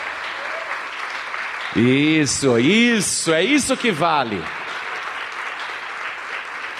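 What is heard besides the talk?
applause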